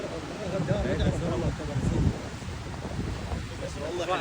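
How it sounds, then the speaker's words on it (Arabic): Large surf over three metres high breaking along a Moroccan beach, a steady broad roar of crashing water and wind buffeting the microphone, with voices talking over it throughout. "والله الموج اكثر من 3 امتار"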